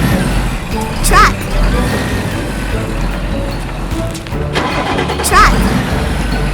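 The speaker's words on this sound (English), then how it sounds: "Truck." A heavy truck rumbles nearby with a deep engine drone, punctuated by two sharp hissing bursts like air brakes releasing.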